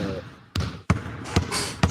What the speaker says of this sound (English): a bouncing basketball